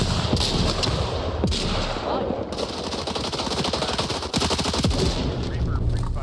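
Rapid automatic gunfire from a video game shooter as Reaper pre-fires, loud bursts and crackling volleys in quick succession, with faint voices underneath.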